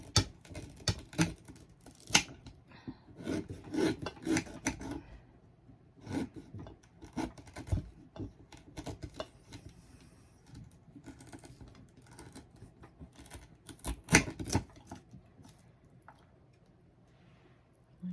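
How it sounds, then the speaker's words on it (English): Herbs are cut into pieces with a knife, producing a close series of quick, irregular chopping taps and rasping slices with short pauses between bursts. "And then I'm going to just cut it in pieces."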